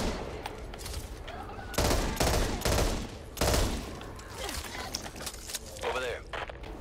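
Machine-gun fire bursts out in the Back 4 Blood game during a diner defense, with several loud rapid volleys between quieter stretches while players talk over it.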